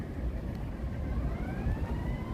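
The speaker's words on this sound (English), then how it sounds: "Sirens." A distant siren wails with a slowly rising tone over a low, steady rumble of Chicago city traffic.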